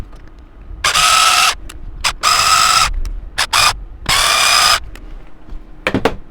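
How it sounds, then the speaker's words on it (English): Power screwdriver removing screws from the casing of a Denon DRA-F101 amplifier lying on its side, several loud whirring bursts of about half a second each with short pauses between, close up and alone. "let's turn it on its side and then remove these screws"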